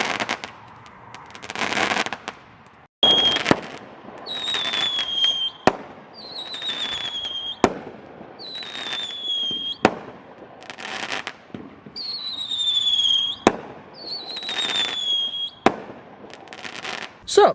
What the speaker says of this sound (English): Some actual good fireworks for once.